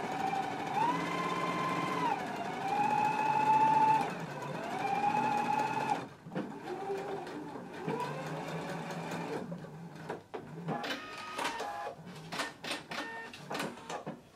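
A sewing machine stitches a pants seam in a long steady run, then stops and starts in short backstitching bursts near the end. It is close and clear, with no talking.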